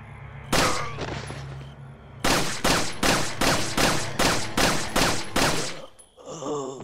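Gunfire in Resident Evil 4: one early shot, a pause, then a rapid string of about ten evenly spaced loud bursts, each sharp and ringing, ending with a low groan.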